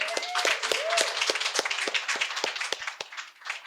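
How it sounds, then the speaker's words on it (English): Outdoor applause at a Democrats' summer picnic in Acton, a modest crowd clapping with distinct individual claps, fairly close, with a few voices mixed in. "Why not another round of applause for our host?"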